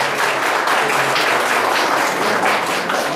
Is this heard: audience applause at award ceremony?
yes